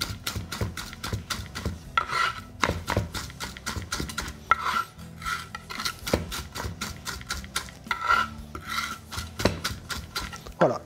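Garlic crushed under the back of a knife blade and scraped across a wooden cutting board, giving repeated rubbing and rasping strokes in a steady rhythm, close up with no talking.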